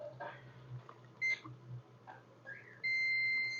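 Two short electronic beeps from a multimeter on continuity setting while testing a Samsung J1 (2016) phone circuit board, then a longer steady beep, a high tone against faint background hum.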